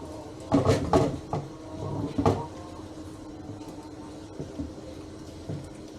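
A spoon knocks and scrapes against a pot while kacang pool is stirred, with a few sharp clanks early on and softer scraping taps afterward, close by.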